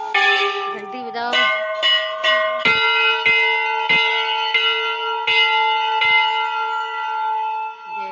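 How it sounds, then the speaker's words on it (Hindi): Temple bells at the ancient Golu Devta temple in Champawat ring repeatedly close by, several sharp metallic strikes layering into a sustained ringing tone that lingers between hits. "घंटी बजाओ।"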